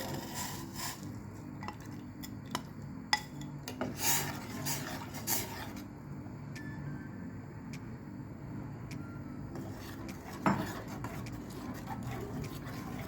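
Ragi flour batter is stirred in a pot of boiling water, with a spoon scraping and rubbing against the pot and occasional sharper knocks against its side, fairly close and quiet throughout.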